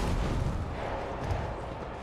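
Grenade blasts in the video game Warhammer 40k: Rogue Trader, a low rumbling boom that fades into a dense, fairly loud roar over about two seconds, with no talking.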